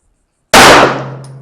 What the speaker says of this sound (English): Okay, I think those were good shots.